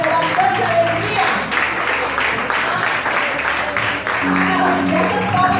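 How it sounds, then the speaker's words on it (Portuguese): Church congregation applauding during a Portuguese-language family worship service: loud, steady clapping throughout, mixed with a voice and sustained musical tones. "Você pode aplaudir o Senhor."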